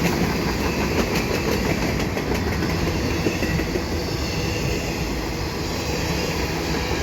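Freight train M397-31 passing at Milepost 75 on the Dundas Subdivision in London, Ontario: loud, continuous rumble of wagons rolling by close up, with rhythmic wheel clatter and faint squeal over the steady roar.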